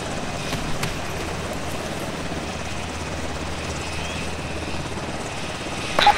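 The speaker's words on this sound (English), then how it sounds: "Get in the helicopter." A military helicopter in the video game ArmA 2 thrums with a steady, loud rotor drone that fills the whole stretch, close and unbroken, with no talk over it.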